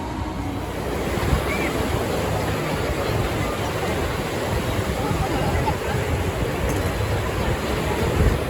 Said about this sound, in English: And this is the wave pool, what they call a Breakwater Bay